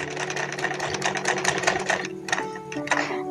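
A sewing machine stitches pleats on a baby salwar in a rapid, close mechanical chatter that slows and stops near the end, followed by a few faint clicks.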